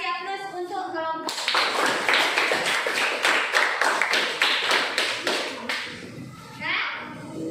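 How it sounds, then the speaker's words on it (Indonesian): A classroom group of teachers and students claps for a presenting group, a burst of lively rhythmic applause starting abruptly after a voice and tapering off after several seconds, with children's voices around it. "Dan kasih aplaus untuk kelompok"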